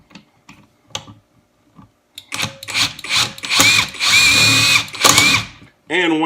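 A Kimo 20V brushless impact driver drives a screw into a solid wood block without pre-drilling, starting with a few light taps, then a loud, sustained burst of rapid hammering that rises in intensity and stops abruptly.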